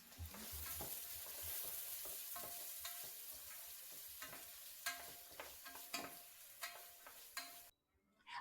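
Chopped onion stirred in a pan over a campfire, steady sizzling frying with repeated scraping and ticking strokes of the spoon, fairly faint, ending in a brief silence.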